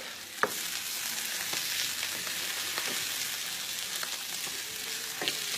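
Salmon fillet searing in a hot pan after being flipped, giving a constant close sizzle with a few sharp pops and crackles breaking through.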